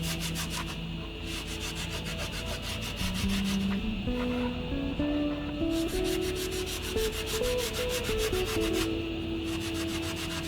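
A textured silver ring, made from melted silver with a wrinkled-gold surface, is scrubbed with a brush before acid treatment. The brushing is close and continuous, with rhythmic rubbing strokes and no talk.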